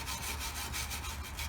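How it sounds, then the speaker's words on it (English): Wire brush scrubbing crusty half-inch spring shackle bolts on a 1977 Ford F150, a steady dense rasping scrape with rhythmic strokes, close and continuous with no talking. "Wire brush."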